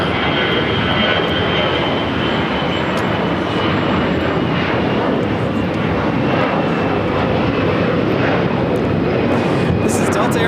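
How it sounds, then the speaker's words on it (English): Steady, heavy roar of a Delta Airlines Airbus A321 taking off at LAX, loud and close, a continuous broadband jet rumble with faint talk underneath. "This is Delta Airlines 622 taking off to Austin on the A321."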